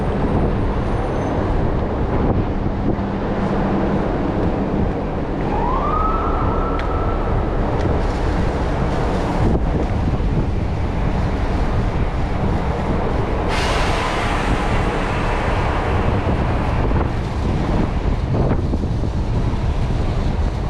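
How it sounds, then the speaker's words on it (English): Heavy wind buffets the microphone in a continuous low rumble and roar on a street in New York City's Financial District, with a brief rising tone and a sharp bump partway through. "Sorry about the wind, it's pretty windy."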